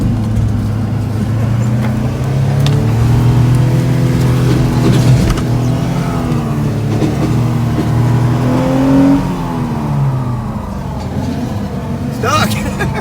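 A stuck four-wheel drive truck revs hard, its engine note rising and falling in long loud surges over several seconds, with people talking nearby.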